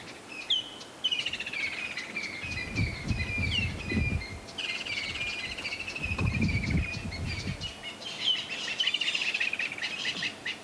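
Woodpecker calls repeat in quick series over a steady outdoor background, broken by a couple of low rumbling noises in between.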